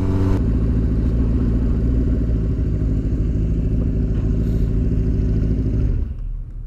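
A hard-tail bobber chopper motorcycle rumbles steadily while riding, a loud, close, continuous low engine drone that cuts off sharply near the end.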